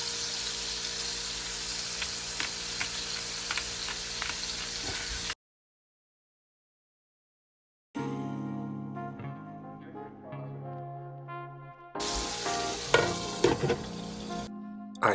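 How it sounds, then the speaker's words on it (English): Half-pound burger patties fry in a 12-inch pan with a loud, steady sizzle that cuts off abruptly, then returns with crackling and spattering as the cooking continues. "I cook these burgers on each side for approximately 4 minutes per side."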